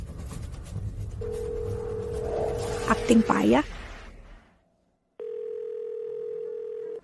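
A phone call fails to connect: a steady electronic call tone drones under a woman's speech, breaks off into a brief silence, then resumes as an unbroken tone that plays alone.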